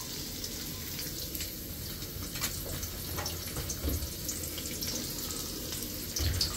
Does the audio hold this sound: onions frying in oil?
yes